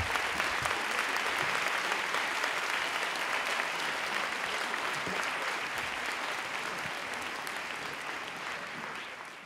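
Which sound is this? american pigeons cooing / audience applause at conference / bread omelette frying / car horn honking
audience applause at conference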